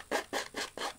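A nail file or sanding tool rasps along the edge of card stock in four quick, even strokes, close and soft, with no voices.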